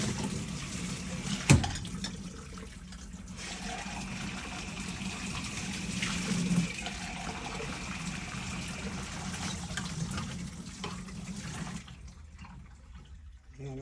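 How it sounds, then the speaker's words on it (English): Water streams from a faucet in a laundry room sink while dishes are rinsed, a steady rushing flow with a sharp clank early on, then cutting off near the end. "I'm gonna rinse this."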